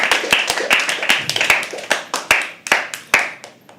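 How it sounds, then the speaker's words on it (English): Scattered audience clapping at a live poetry open mic, individual hand claps clearly separated in an uneven rhythm, close and fairly loud, thinning out toward the end. "A huge round of applause for Nikhil"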